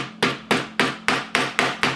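A flat hammer taps a shaft seal retainer into place with eight evenly spaced sharp metallic knocks, close and clear, each with a brief ringing decay.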